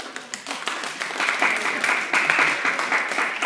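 A crowd applauds steadily at a high school arts honors ceremony, the clapping building slightly and continuing throughout, dense and moderately loud.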